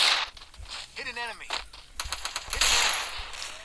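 Machine gun fire in the mobile game Free Fire stutters in bursts of rapid shots between pauses, mid-distance and moderately loud, with in-game effects and a voice mixed in.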